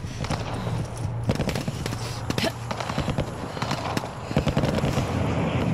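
Rapid gunfire from the Call of Duty DMZ video game crackles throughout, dense bursts of shots and sharp impacts that rarely pause, loud and close.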